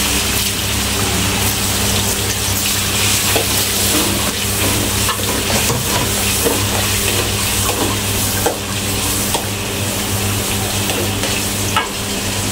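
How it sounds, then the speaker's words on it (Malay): Tamarind water hits sliced onions frying in a pan for squid sambal, a loud continuous sizzle and bubbling with stirring that carries on steadily throughout, no voices. "Itu kita curahkan air asam sikit."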